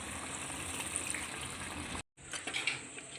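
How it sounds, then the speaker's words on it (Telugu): Steady broadband rush of about two glasses of water pouring into a pot of mutton curry, cut by a brief silence near the end before a lighter splashing flow resumes. "ఇప్పుడు దీంట్లో ఒక రెండు గ్లాసుల వరకు వాటర్ అయితే వేసుకోవాలి"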